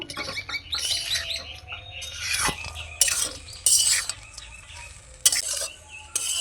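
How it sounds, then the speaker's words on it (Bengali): A spoon stirs flattened rice (poha) mixed with salt and sugar in a pan, with irregular scraping and clinking bursts of metal against cookware and a faint sizzle between strokes. "লবণ আর চিনিটাকে দেওয়ার পরে পোহার সঙ্গে ভালো করে মিশিয়ে নিলাম।"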